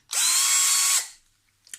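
A Lidl Parkside PBSA 12 C2 cordless drill whirs loudly at a steady high pitch for about a second, then spins down to silence, with a faint click near the end.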